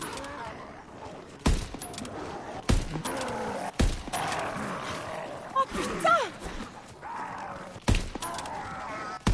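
Sniper rifle shots ring out in Call of Duty: WWII Zombies, several sharp cracks spaced a second or two apart over the growls and roars of zombies, with game effects filling the gaps.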